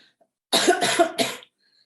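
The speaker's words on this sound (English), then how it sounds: "I apologize for my coughing" A short fit of three harsh, close coughs in quick succession during a parks and recreation commission meeting, then quiet.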